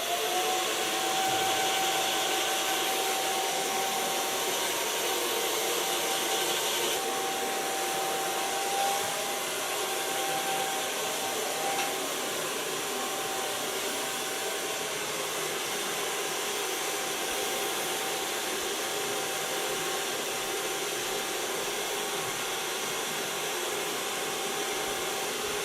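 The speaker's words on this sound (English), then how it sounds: "Gonna blow dry this with the use of my fingers." A hair dryer blows steadily for the whole stretch while short hair is blow-dried with the fingers. The whine is loud, close and unbroken, with only slight changes as the airflow shifts, and no voices over it.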